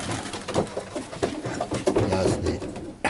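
A flock of Fabry and Janssen racing pigeons keeps up steady overlapping cooing inside a loft, near and fairly loud, with scattered clicks and shuffling.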